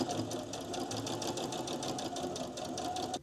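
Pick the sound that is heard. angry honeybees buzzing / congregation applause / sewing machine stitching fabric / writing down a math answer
sewing machine stitching fabric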